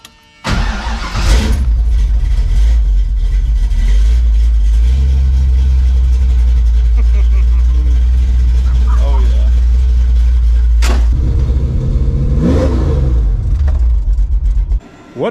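A 1987 Ford Mustang GT with its 5.0 V8 starts after a brief click, then settles into a loud, deep rumbling idle with a few throttle blips near the end, recorded close to the car.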